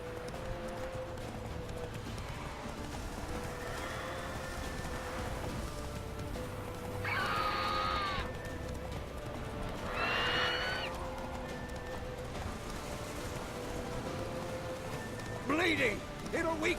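Roach, the horse in The Witcher 3, gallops with steady hoofbeats under game music, with short bursts of sound and a voice speaking over the action.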